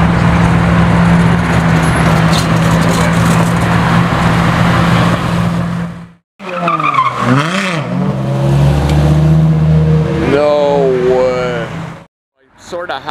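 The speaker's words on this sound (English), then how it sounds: "I've caught him doing a drift, but I should have got a better spot." Ferrari F12 TDF sports car drifting on a public road after leaving a Ferrari event, with a loud sustained engine roar and tyre noise passing by close, broken by brief gaps and gasping from onlookers.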